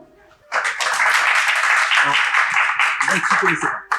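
After a brief quiet moment, an audience bursts into loud, dense clapping that fills the room for about three seconds and then thins out, cast as a vote for Saint-Marcellin cheese with olive oil, with a few voices mixed in.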